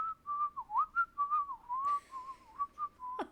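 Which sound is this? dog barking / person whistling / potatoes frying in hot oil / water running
person whistling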